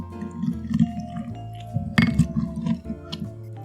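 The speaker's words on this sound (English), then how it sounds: "Muddle together." Muddling mint, sugar and lime in a Collins glass: a series of soft thuds, squishes and faint clinks, close by, over steady background music.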